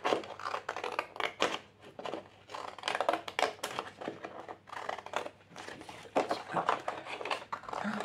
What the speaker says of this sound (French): je reprends un petit coup mes ciseaux pointeurs